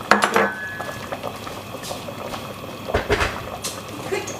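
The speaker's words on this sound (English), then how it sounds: "Let the water boil." Water heating in a pot for pilau rice gives a faint, soft bubbling hiss, broken by a few clinks of a utensil against the pot.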